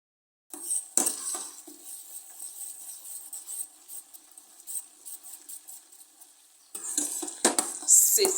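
Anti-dandruff oil mixture frying in a pot on the stove while a utensil stirs it, with scattered scrapes and clinks against the metal, near and fairly faint, busier at the start and end.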